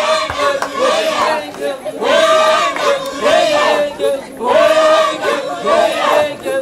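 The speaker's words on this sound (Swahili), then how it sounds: "Makofi, shangwe na nderemo pale" A crowd at a Kenyan gathering for an MP's visit, chanting and singing in rhythmic swells with cheering voices and ululation, loud and repeating in waves.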